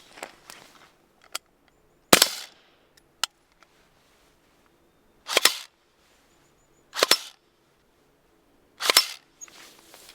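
Several sharp, loud cracks from a suppressed 300 Blackout rifle with a Dead Air suppressor ring out at spaced intervals, each followed by quieter clicks and clacks of the action cycling between shots in an otherwise quiet setting.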